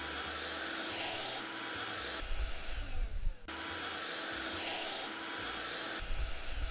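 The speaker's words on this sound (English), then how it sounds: "I don't think I've ever seen anyone clean a window with a vacuum" A vacuum cleaner in House Flipper runs over a window with a loud, continuous whooshing drone, its tone briefly shifting midway before the steady hum resumes.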